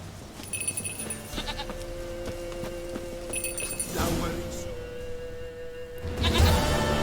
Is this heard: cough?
no